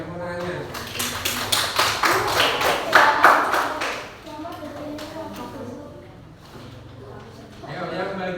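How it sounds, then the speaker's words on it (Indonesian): A sixth-grade class claps for a student group, a burst of scattered hand claps from many children that fades after a few seconds while a teacher's voice and classroom chatter continue. "silakan tepuk tangan ya, berikan tepuk tangannya"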